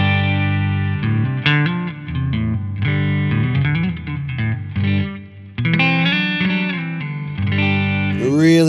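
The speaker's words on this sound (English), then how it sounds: "Really lovely vibrato sound." Electric guitar chords run through the vibrato setting of a Flamma FX20 modulation pedal, pitch wavering in a steady warble, close and full, with a brief drop and a bright bend at the end.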